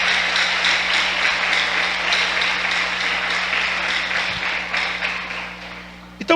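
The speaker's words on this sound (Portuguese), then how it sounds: "Dá uma salva de palmas" Church congregation clapping together, a dense steady wash of applause that continues evenly and then thins out near the end.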